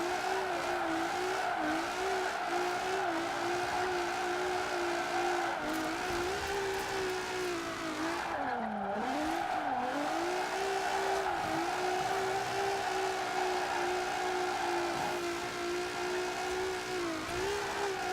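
A Nissan 350Z drifting in Forza Horizon 4, a sustained loud engine whine with tires squealing and the pitch dipping as the car swings through corners, steady throughout with no talking.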